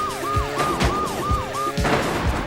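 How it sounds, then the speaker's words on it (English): Police sirens wail in repeated rising and falling sweeps in the PS2 game Smuggler's Run, over engine rumble and thuds of cars bumping and scraping, loud and continuous. "the endless police sirens sound slightly royalty-free but not audibly offensive"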